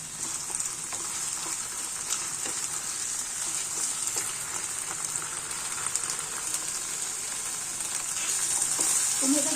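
Pumpkin pieces being stirred together with onions in a hot pan for a Bengali pumpkin mash, a steady close sizzle of frying with faint scraping and stirring throughout.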